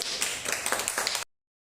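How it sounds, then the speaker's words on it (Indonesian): A classroom audience applauds at the end of a microteaching art-appreciation lesson: a brief, dense burst of many hands clapping together, close and fairly loud, that stops abruptly. "Boleh tepuk tangan dulu."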